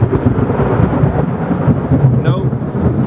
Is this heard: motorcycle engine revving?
no